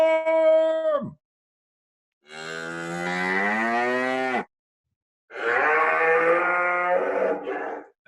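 Three long, loud cow moos, harmonic and close, each lasting a second or more and separated by short silences; a farm-animal sound standing alone.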